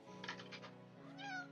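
A cat meowing for its evening pâté, a short sequence of faint, close mews rising into a longer plaintive meow at the end.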